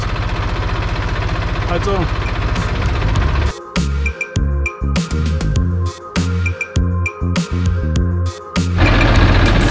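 An IHC 523 tractor engine runs close by with a loud, steady diesel throb that turns choppy and uneven as it is driven into a hall, with someone speaking over it.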